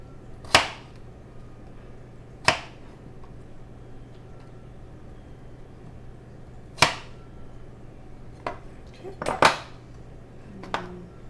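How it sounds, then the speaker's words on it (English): A spoon tossing fruit salad in a bowl, a handful of sharp clinks of metal against the bowl spaced irregularly, with a quick cluster of knocks near the end over a quiet background. "Take my spoon and toss it around"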